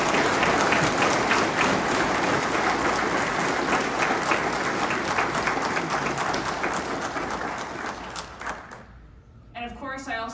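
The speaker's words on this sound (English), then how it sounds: "Let's give them a round of applause." Audience applause closing a Holstein breeders' forum panel, sustained dense clapping from a crowd that gradually thins and fades out, followed by a voice resuming speech at the end.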